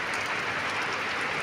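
Heavy rain pours on farm fields in rural Thailand as a dense, unbroken hiss. It is loud and close, with no voices over it, for a brief moment.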